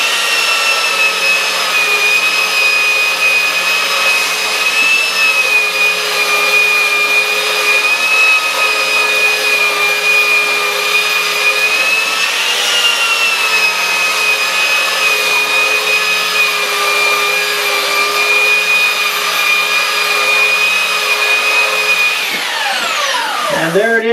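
A belt sander surfaces a laminated wood board with a loud, continuous high whine and motor hum that holds steady for over twenty seconds, then winds down at the end.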